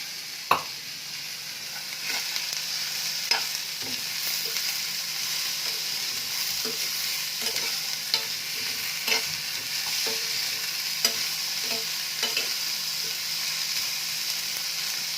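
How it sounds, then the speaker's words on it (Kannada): Mixed vegetables and sprouted grains sizzle and fry in a pan, with a steady hiss broken by regular scraping stirs of a spoon every second or so, close by and with no voices. "ನೋಡಿ ತರಕಾರಿ ಕಾಳು ಚೆನ್ನಾಗಿ ಫ್ರೈ ಆಗಿದ್ದಾವೆ."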